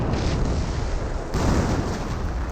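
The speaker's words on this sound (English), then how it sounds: "And more explosions raining on in right there." Dense, rumbling blasts of artillery explosions in Company of Heroes overlap into a continuous low roar, with a fresh impact surging halfway through.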